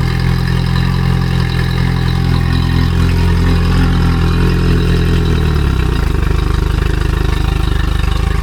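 An outboard motor idles on a test run with a steady low rumble, its pitch dropping slightly partway through while it keeps running.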